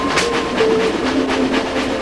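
A train rumbles along steadily with a low clickety-clack rhythm and a faint tonal whine, loud and continuous throughout, with no voices.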